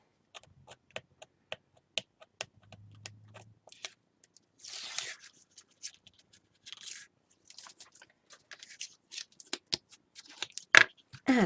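Tape backing peeled from paper strips while making post-bound album covers, heard as close crisp ticks and snips in an irregular series with a couple of brief rustling peels, no talk.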